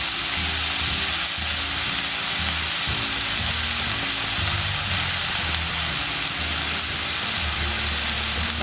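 Onions frying in hot oil in a pan for a spiced egg dish, a loud continuous sizzle with a steady hiss and faint low clatter underneath, no voices.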